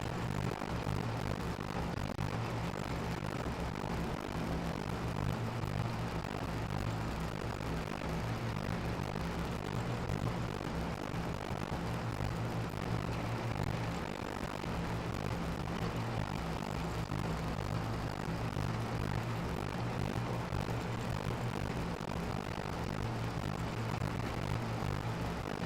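Farm tractor engine in the Farming Simulator 25 video game runs at a steady, unchanging drone for the whole stretch, a continuous low hum with no talk over it.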